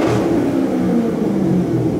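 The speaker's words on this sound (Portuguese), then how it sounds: "Olha o ronco do negócio." Chevrolet Corvette engine running up close, a loud, deep throbbing rumble that swells slightly as it revs, with no talking over it.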